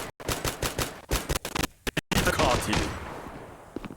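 Automatic gunfire in the mobile shooter game Zula Mobile, with rapid bursts of shots, short gaps, then a denser fusillade that fades into a softer rumble.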